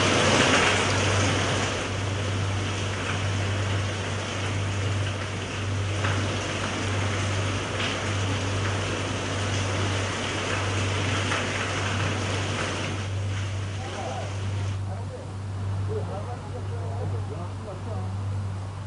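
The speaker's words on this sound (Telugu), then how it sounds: "నైరుతి రుతుపవనాల ప్రభావంతో రాజమండ్రిలో భారీ వర్షం కురుస్తోంది" Heavy monsoon rain falls in Rajahmundry as a steady, dense hiss that runs throughout, over a constant low hum.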